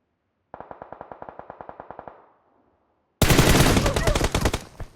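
Video game gunfire in PUBG Mobile: a crisp burst of about sixteen evenly spaced automatic shots, a brief pause, then a louder, denser roar of firing that fills the rest.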